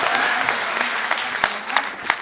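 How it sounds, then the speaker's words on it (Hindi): An audience at a live poetry event claps steadily for a couple of seconds, a dense patter of many hands with a few sharper individual claps standing out, with no speech over it. "एक बार तालियां बजा के मुझे मन दे"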